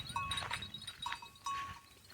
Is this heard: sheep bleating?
yes